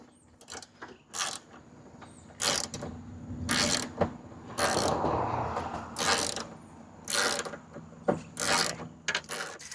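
Sharp bursts of ratchet clicking, close and distinct, come and go between quiet gaps as a bolt holding a side mirror on a VA Subaru WRX is snugged down.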